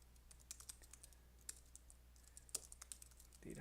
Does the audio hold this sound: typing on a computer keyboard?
yes